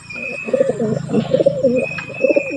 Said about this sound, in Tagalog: Nara ko hybrid nga kalapati.